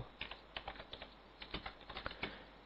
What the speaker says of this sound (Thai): ณ จุดนี้ผมพิมพ์คำว่าอีเมล